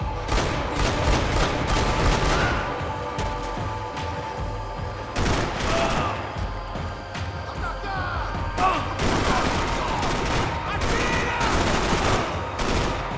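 Rapid gunfire from the video game Max Payne 3, with bursts of shots, machine-gun fusillades and crashes coming in dense, loud clusters across the clip while someone talks over it.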